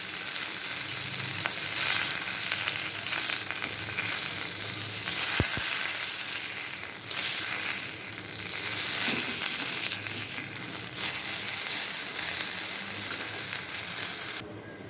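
Rohu fish pieces frying in oil in a wok, a continuous close crackling sizzle with stirring and turning noises throughout, no voices.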